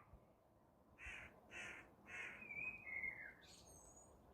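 Two crows caw back and forth in a handful of harsh, repeated calls at moderate distance, the later caws longer and drawn out, with no voices over them.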